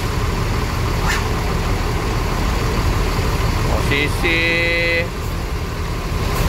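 A Rosalia Indah bus manoeuvres slowly through a tight space, its engine idling loudly and steadily while a short two-tone horn toot sounds near the end and a person speaks briefly.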